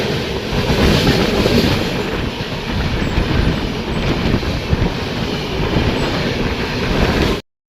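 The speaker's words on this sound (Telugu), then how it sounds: "మన బండి స్టార్ట్ అయిపోయింది." Passenger train on the Katpadi Junction to Shirdi route running at full speed, a loud continuous roar of wheels and rails with steady rumble throughout, heard from on board without speech until it cuts off at the end.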